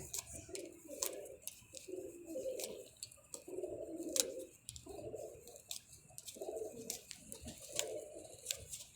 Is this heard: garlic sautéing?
no